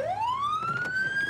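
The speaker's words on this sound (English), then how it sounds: "let me get my sirens turned off really quick" Police car siren in GTA 5, a single rising electronic wail that sweeps upward and holds, loud and close under faint background noise.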